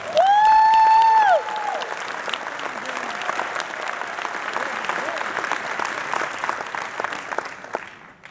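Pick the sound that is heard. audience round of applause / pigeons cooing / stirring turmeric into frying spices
audience round of applause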